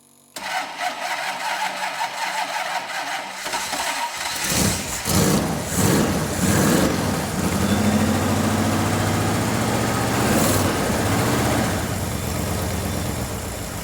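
A Ford GT40 replica's V8 cranks briefly, then catches and roars into a loud, rough idle with a few blips of revving, running unevenly on fewer than eight cylinders, close by.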